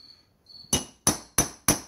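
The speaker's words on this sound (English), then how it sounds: "What you're doing is you're shoving that aluminum back in against that valve seat." Hammer tapping with a punch, driving the aluminum head of a Briggs & Stratton engine back in around a loose valve seat: four sharp metallic strikes at a steady pace, close and loud, after a faint high ringing.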